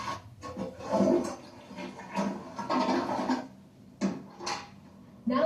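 Dirty aquarium filter water being flushed out, a loud rushing, splashing flow in repeated surges with brief dips between them, close and without talk.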